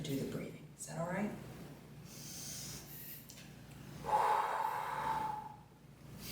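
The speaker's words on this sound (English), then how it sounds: "I'm just gonna do the breathing." A person demonstrates slow, deliberate deep breathing: long audible inhales and drawn-out exhales, close and soft, with breathy gaps between breaths and no words spoken.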